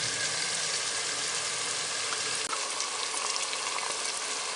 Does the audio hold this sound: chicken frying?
yes